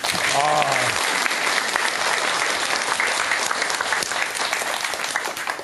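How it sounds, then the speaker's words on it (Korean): An audience at a Korean Buddhist dharma lecture breaks into loud, sustained applause, dense clapping that carries on for several seconds and slowly tapers, with a voice briefly heard at the start. "박수 한번 치세요."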